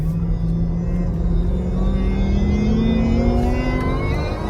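Supercharged V8 in a Jeep Trackhawk during a late-night drive, a steady loud engine drone with a tone rising gradually as it revs, sustained throughout with no talking.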